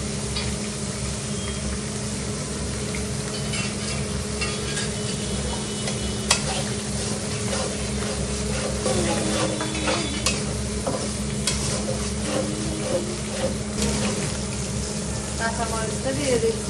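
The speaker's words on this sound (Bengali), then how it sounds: "আমার ডালগুলো একটু ভাজা ভাজা হয়ে কষানো হয়ে গেছে। এখানে মশলাগুলো ঢেলে দিব।" Spices tipped into lentils frying in a pan, a fish curry of climbing perch and beans under way, with continuous sizzling and loud stirring scrapes, close and busy throughout.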